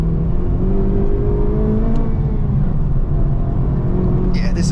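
A 2026 Honda Civic Type R engine is pushed to full throttle. A loud, continuous engine drone climbs steadily in pitch, heard from inside the car with road and wind roar underneath.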